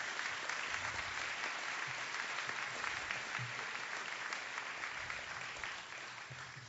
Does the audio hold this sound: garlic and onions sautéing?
no